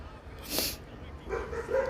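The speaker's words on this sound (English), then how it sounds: "Got some dogs barking in the next room." Dogs bark in the next room, a couple of short muffled barks and yips heard at a distance, faint against a quiet indoor background.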